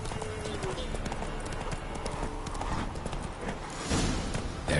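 Roach the horse trotting in The Witcher 3, a steady clip-clop of hooves close by, running under a voice throughout.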